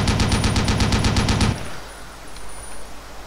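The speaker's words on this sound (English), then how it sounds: "This has a super cool machine gun where you can't actually see the machine gun operator's head" A vehicle-mounted machine gun in the video game Desert Combat fires a rapid, loud burst of evenly spaced shots for about a second and a half, then cuts off to a faint background rumble, with no talking.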